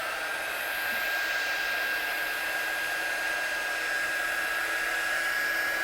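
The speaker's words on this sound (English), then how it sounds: "So I'm just going to dry that off with my gun." A heat gun drying watercolour paint on a papercraft project, giving a steady, continuous blowing whoosh with a faint high whine, running unbroken the whole time at moderate, close volume.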